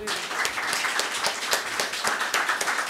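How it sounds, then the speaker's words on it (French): Audience applause at a conference on the value of hair in Africa, a steady wash of many hands clapping at moderate level with no voices, carrying on evenly for the whole stretch. "Applaudissez pour elle."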